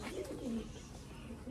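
Pigeons kept by a breeder in Sialkot give soft, low coos twice in quick succession over a faint, steady background hum, close but quiet.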